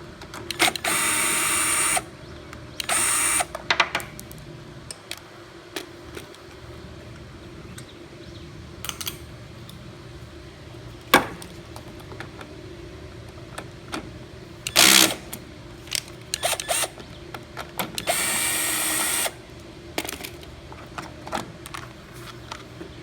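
10 mm bolts being backed out of a Honda HRB215 lawnmower with a ratchet or power tool, heard as several short bursts of whirring and clicking spread across the clip, with quieter mechanical ticks in between.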